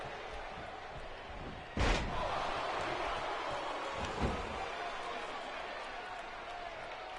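A wrestling arena crowd roars at a steady, loud, dense level throughout, with a sharp slam or thud near the start that lifts the noise, then a smaller thump later, while the broad cheering continues unbroken.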